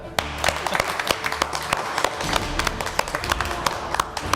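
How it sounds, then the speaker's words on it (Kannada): Everyone in the room claps together, loud, close and steady, and the applause keeps going over a low murmur of voices. "ಯಾಕೆ ಎಲ್ಲರೂ ಚಪ್ಪಾಳೆ ಹೊಡಿತಿದ್ದೀರಾ?"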